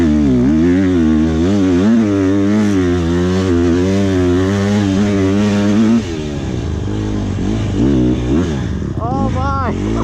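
A Honda CRF150R dirt bike is ridden on a track, its engine buzzing loud and close with rising and falling revs as the throttle opens and closes, while a rider speaks over it near the end.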